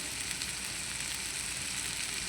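Asafoetida hits hot oil in a pan while a tomato and green chilli chutney is being cooked, giving a steady, close, even sizzle that fries on without a break.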